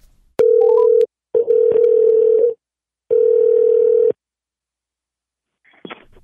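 A landline telephone connecting a call: a short steady tone, then two longer buzzing dial or ringback tones separated by silence, loud and clean, with a faint click at the end.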